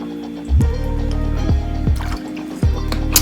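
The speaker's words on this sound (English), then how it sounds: "Let's drink some water." Someone drinks water with several close, wet gulps and swallows, spaced about a second apart, with no talking.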